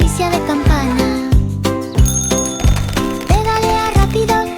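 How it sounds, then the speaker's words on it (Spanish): A bright bicycle bell rings in a children's song, its repeated ding tones set over steady musical backing with regular rhythmic beats. "El timbre hace ding, ding, ding, ding, ding, ding, ding."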